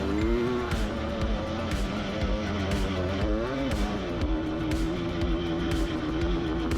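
Race cars scream around a track, their engines rising and falling in overlapping passes with sharp upshift cuts and bursts of tyre noise, loud and continuous.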